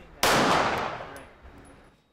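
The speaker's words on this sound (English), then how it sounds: "If those gunshots excite you too," A single sharp gunshot at a shooting range cracks out, followed by a long ringing decay that fades over about two seconds.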